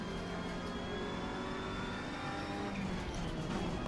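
A Ferrari race car in the Assetto Corsa Competizione racing game on PS4 drives with a steady, high engine whine and shifting pitch, with some tire noise beneath.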